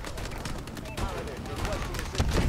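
Quick bursts of pistol gunfire in Call of Duty: Advanced Warfare multiplayer, several rapid shots over about two and a half seconds mixed with game effects and a voice.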